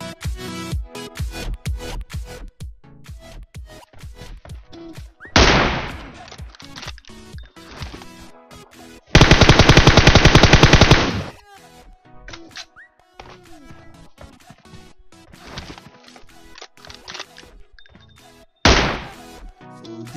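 PUBG Mobile gameplay audio captured from the device: a dense run of sharp gunshot-like thwacks and clicks, with several loud bursts of sustained noise, one lasting about three seconds, and quieter shuffling between them. No voice.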